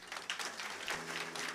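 Brief audience applause at a small concert of new songs, a dense patter of clapping hands heard at moderate distance, fairly soft.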